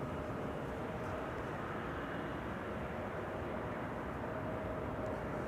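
KLM Boeing 777 on approach to Amsterdam Schiphol, a constant distant jet rumble with a faint steady whine, unchanging across the stretch and with no speech.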